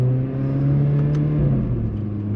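A modified Mercedes A45 AMG engine accelerates hard, a loud, close, steady rumbling drone rising slightly in pitch over a couple of seconds, with no voices.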